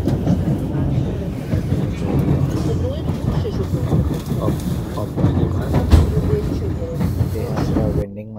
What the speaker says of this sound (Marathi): हे दुसरा एक रूट आहे ट्रेनचा. कोणता तरी अशा प्रकारचे बोगदे असतात इथे